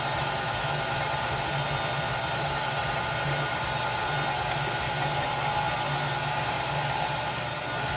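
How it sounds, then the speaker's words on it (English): An electric mixer whirs steadily through banana nut bread batter, a continuous close motor hum and buzz with no pauses. "At this point, I'm going to stop my mixer"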